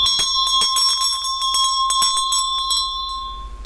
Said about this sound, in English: The bell is rung.